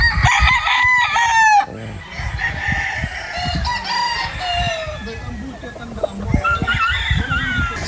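On a Philippine farm, a rooster crows loudly up close, followed by clucking chickens and further crowing, with someone talking over the birds throughout.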